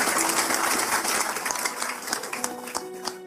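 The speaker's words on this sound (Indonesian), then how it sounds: "Tepuk tangan sekali lagi ya" A gathered audience claps at a religious talk, a steady wash of applause that gradually thins into scattered individual claps toward the end.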